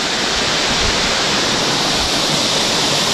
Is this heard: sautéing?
no